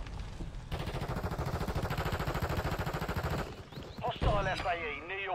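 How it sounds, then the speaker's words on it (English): Sustained LMG fire in Modern Warfare 3, a fast, loud rhythmic stream of shots for about three seconds, followed by scattered gunfire while radio-style voices talk near the end. "How the fuck is this guy not die when I'm shooting him with a fucking LMG?"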